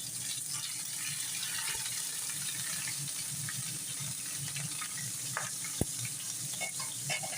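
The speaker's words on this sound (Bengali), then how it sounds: "তেল গরম হয়ে গেছে, এবার কই মাছটা দিয়ে দেবে লাউ পাতার ভিতরে।" Koi fish, wrapped in a gourd leaf with ground spice paste, frying in hot oil: a soft, steady sizzle with faint bubbling and one sharp click near the end.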